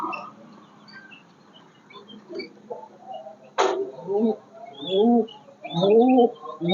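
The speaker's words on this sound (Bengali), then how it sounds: "দেখতে পাচ্ছেন আমার কবুতরগুলা।" Domestic pigeons kept inside a rooftop enclosure give soft, repeated cooing calls in several overlapping bursts. A brief sharp click sounds partway through, and faint voices are present.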